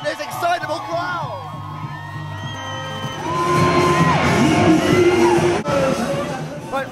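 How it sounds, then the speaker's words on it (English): An excitable crowd lines the London Pride parade route in 2011, whooping and yelling. The cheers swell from scattered calls into a loud, sustained roar with whistles, and voices talk close by throughout. "just have a look at this excitable crowd."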